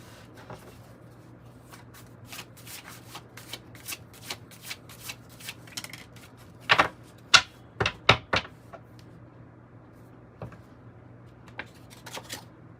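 A deck of tarot cards is shuffled close by, with a run of quick riffling flicks, then several louder snaps in the middle and a few softer flicks at the end, and no talk.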